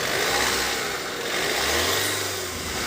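A Tata Harrier engine revs up and settles, a steady mid-pitched drone that swells and eases across a few seconds, heard fairly close with no talking.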